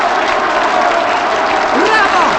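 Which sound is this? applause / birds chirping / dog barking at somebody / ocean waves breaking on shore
applause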